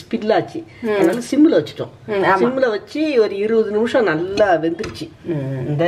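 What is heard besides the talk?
No everyday noise stands out behind the speech.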